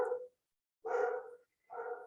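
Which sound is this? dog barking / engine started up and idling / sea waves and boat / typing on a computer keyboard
dog barking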